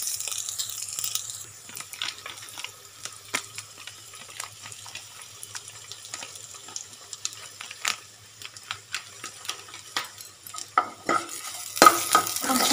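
Tempering spices with green chillies fry in oil for a raw mango rasam, giving a light crackling sizzle broken by frequent sharp stirring scrapes and clicks, close by, building to louder clatter near the end.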